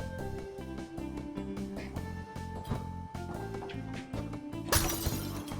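A bat smashing objects in Night in the Woods, a run of sharp breaking hits over looping game music, ending in one louder glassy shatter near the end.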